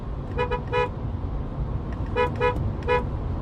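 Car horn of a Geely EX2 electric car sounding in several short, loud honks: a quick cluster of three toots, a pause, then three more, with steady low road or engine rumble underneath and no talking.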